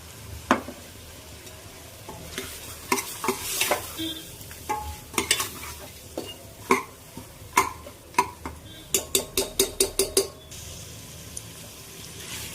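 A spoon stirring ground masala paste as it fries in a pan for Salem-style mutton curry, with repeated sharp scraping and clacking strokes over a soft sizzle, speeding into a quick run of strokes near the end.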